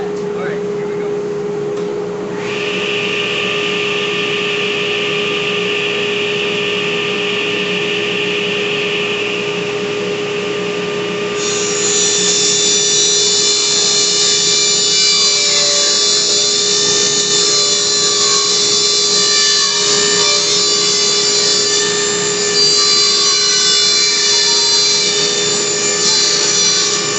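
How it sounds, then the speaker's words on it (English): A table saw whines steadily through a rip cut on a board for a rotted sink base floor repair, its pitch rising as the blade bites in and then holding loud and constant. "I'm going to rip my board in 22 3/4. Now if you don't have a table saw, you can use a skill saw"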